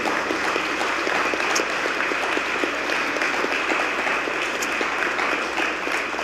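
An audience in a Catholic gathering applauds, steady dense clapping from many hands sustained for several seconds at moderate loudness, with no speech over it.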